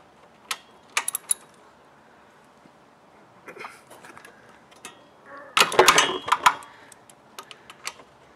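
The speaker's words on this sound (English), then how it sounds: "we're going to use the ratchet to undo the bolt" A ratchet loosens a motorcycle oil drain bolt: scattered sharp clicks, then a denser cluster of louder metallic ratcheting, followed by a few isolated ticks, close and with no one speaking.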